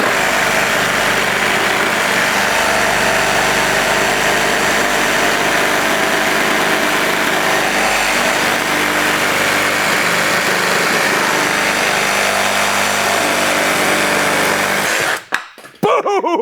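Kobalt XTR cordless reciprocating saw running in orbital mode, a loud steady buzzing cut that holds for about fifteen seconds and then stops abruptly, close up.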